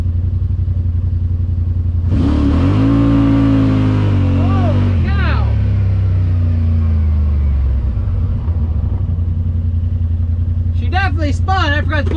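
A Yamaha Wolverine X4 UTV launches hard, its engine revving up loudly with rising tone as the wheels spin, then easing back to a steady rumbling idle, recorded close from inside the vehicle.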